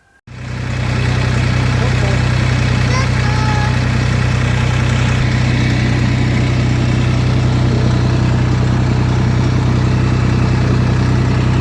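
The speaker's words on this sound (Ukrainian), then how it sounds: "тракторець з нею теж гарно працює" A small tractor engine runs steadily and loudly close by, a constant low droning idle that starts abruptly and holds without change.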